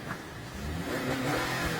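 A truck's engine revs as it is put in drive during a vehicle repossession, a faint, distant rising rumble with no talk over it.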